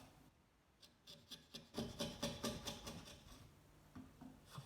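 A sharp chisel pares thin shavings from a wooden spline joint on an octagonal table top, making a faint run of soft, rhythmic scraping strokes that build up and then trail off.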